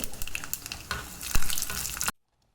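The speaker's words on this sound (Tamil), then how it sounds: "கடுகு பொரிய ஆரம்பிச்சிச்சு." Loud, crackling sputter of mustard seeds popping in hot oil with dried red chillies, dense and continuous, then stopping abruptly.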